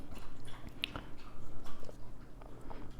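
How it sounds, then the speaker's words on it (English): Goldie the pet drinks in the background, faint repetitive lapping and slurping sounds at a quick irregular rhythm, low and close, with no talking. "Sorry if you can hear Goldie drinking in the background."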